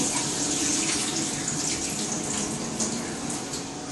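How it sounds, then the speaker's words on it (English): Hot water is drained from a pot into a kitchen sink while making potato salad, giving a steady, close gushing splash that runs throughout. "let me drain this water off first so I don't burn myself."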